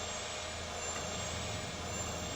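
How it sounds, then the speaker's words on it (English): Boeing 737 jet engines running at reduced takeoff power, heard in a cockpit voice recording: a dense, steady roar with a thin high whine, unbroken and fairly loud, no talk. "Those engines sure ain't at full power."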